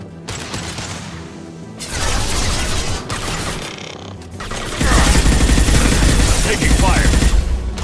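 Gunfire from the video game Mass Effect 2 (Legendary Edition): loud, dense automatic bursts and rattling shots that swell into a heavier, sustained barrage in the second half.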